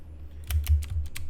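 Computer keyboard keys pressed for Control-plus and Control-minus zoom shortcuts in Adobe Illustrator: about five crisp, close clicks in quick, uneven succession over a low background hum.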